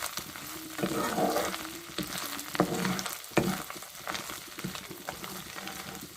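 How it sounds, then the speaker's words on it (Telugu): An amla and tomato pickle mixture frying in a pan, with soft sizzling and a few sharper stirring scrapes and knocks that stay fairly quiet throughout. "ఇదిగోండి బాగా ఫ్రైగా ఉంది వేయించుకుంటే సరిపోతుంది"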